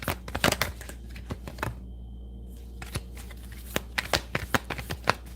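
Tarot cards being shuffled by hand in quick riffling bursts of crisp paper flutter, with a short pause partway through and then more brisk shuffling, close up and clear.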